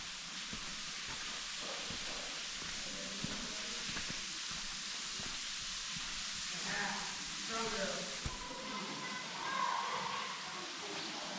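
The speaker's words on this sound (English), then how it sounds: "Okay, I hear a waterfall." A waterfall in a wooded gorge makes a faint, steady broadband hiss heard from a distance, continuous throughout, with soft murmuring voices and footsteps nearby.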